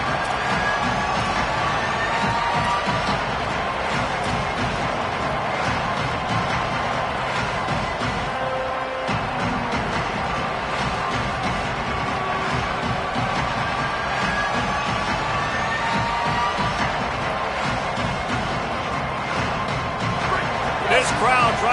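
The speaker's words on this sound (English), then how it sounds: "This crowd trying to make life miserable for this offense." A college football stadium crowd roars steadily during a Tennessee at Penn State game, a dense wall of loud, sustained noise beneath continuous commentary.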